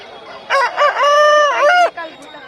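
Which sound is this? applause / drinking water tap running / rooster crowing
rooster crowing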